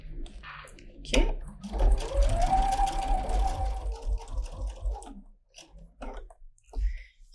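A sewing machine runs for a few seconds stitching a straight line on the back yoke of a pajama top, its motor whirring steadily between softer handling clicks before and after.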